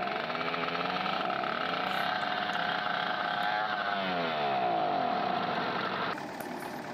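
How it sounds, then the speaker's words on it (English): A tractor's small pony motor in Farming Simulator 2013 starts up and runs with a steady, buzzy mechanical drone, then its tone shifts near the end. "let's start it up. There's the pony motor."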